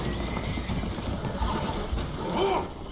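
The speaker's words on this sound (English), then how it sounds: "Horses are spooked, and we're taking on water." Spooked horses whinny aboard a boat that is taking on water in Red Dead Redemption 2. One high, wavering neigh rises near the end over a dense, noisy game background.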